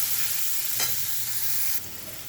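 Onions fry in a pan with a brisk, close sizzle that drops noticeably quieter near the end of the brief stretch.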